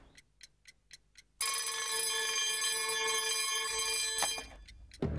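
A bedside alarm clock rings loudly and continuously for several seconds after a few short ticking taps, the bell sounding alone until it cuts off near the end.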